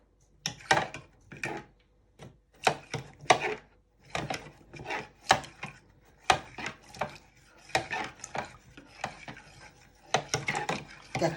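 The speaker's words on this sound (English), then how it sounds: "you want to give it a good stir with your fork" A fork stirs Manchester tart mixture in a measuring jug, making crisp, rhythmic scraping and clinking strokes in quick irregular clusters, close and moderately quiet.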